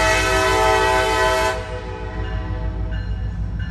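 A loud train with locomotives rumbles past close by, a dense steady roar with a harsh metallic hiss that eases after a second and a half into a continuing lower rumble of rolling cars.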